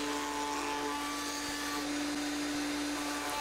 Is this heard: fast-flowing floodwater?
no